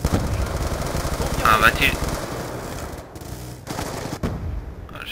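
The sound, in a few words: turret gunfire in video game Call of Duty Black Ops 2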